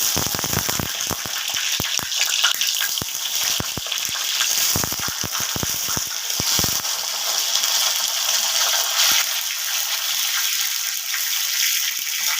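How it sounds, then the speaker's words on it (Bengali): Eggplant slices frying in hot mustard oil, a steady close sizzle throughout with sharp crackles and spatters clustered in the first seven seconds, then settling into an even hiss. "এবার বেগুনগুলো আমি একটু ভেজে নেব"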